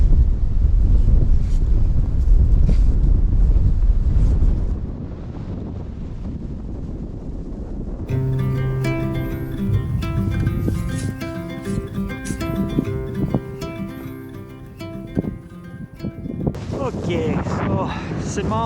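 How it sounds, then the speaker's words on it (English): Strong wind buffeting the microphone outdoors on a very windy day, heavy low rumble for the first few seconds, then gusts continuing faintly under a stretch of music. "I can't believe how windy it is"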